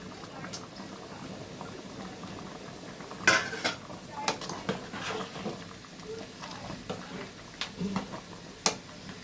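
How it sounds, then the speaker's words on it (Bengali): Fried paneer, nuts and raisins are tipped into paneer pulao in a pan, with soft clinks, scrapes and a low bubbling simmer, all fairly faint. "এবার আমি পনিরটা যে ভেজে রেখেছিলাম আর বাদামগুলো কিশমিশ সেগুলো কিন্তু আমি অ্যাড করে দিলাম।"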